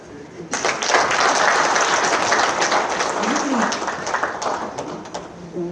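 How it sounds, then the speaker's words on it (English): Audience applause rings out after a presidential speech at an official event in Zimbabwe, a broad, sustained wash of many hands clapping that holds steady for several seconds. "Another round of applause for His Excellency."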